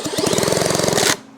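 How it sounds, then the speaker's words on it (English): A power drill works on a seized Yamaha GT80 motorcycle engine, running loud and steady with a fast rattling, knocking pulse for about a second before cutting off abruptly. "So we got our drill."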